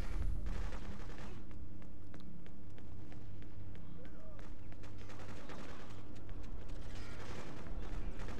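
A machine gunner fires in Freedom Fighters, with rapid gunshots crackling over a dense, constant roar of battle noise, steady and loud throughout.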